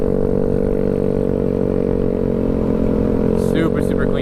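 A 49cc Honda Ruckus scooter with a 12.5 inch stretch and a Two Brothers exhaust runs at a steady drone, loud and continuous, with a few brief higher rattles near the end.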